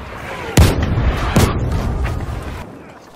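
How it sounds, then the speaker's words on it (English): Heavy booms in a Battlefield match, two sharp loud blasts close together followed by a fainter thud, with rumbling battle noise throughout and a voice briefly underneath. "Ich werfe die Granate!"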